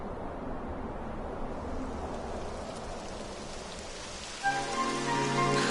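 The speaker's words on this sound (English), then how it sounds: "It would have to go and start raining, wouldn't it?" Steady rain falls in the video game Dragon Quest XI S, a continuous soft hiss heard alone, with a brighter, louder musical tone rising near the end.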